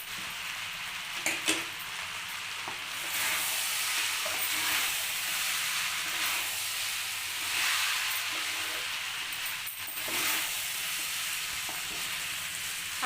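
Beaten egg stirred into noodles in a hot pan, a steady sizzle with scraping and stirring clatter running throughout, close and fairly loud, no talking.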